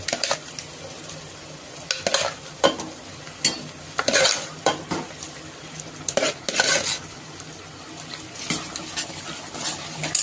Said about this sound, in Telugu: పప్పు ఇలా బాగా మెత్తగా తిప్పుకోండి